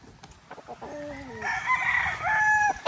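A white-legged Boston Millionaire rooster crows once in a long, drawn-out call, loud and close, with clucking and farmyard background noise before it.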